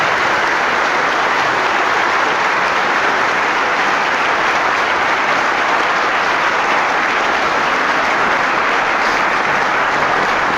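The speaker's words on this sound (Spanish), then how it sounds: "diéramos un fuerte y caluroso aplauso para que ellos se sientan" Loud, sustained applause from a Catholic church congregation, dense and even throughout with no voices standing out.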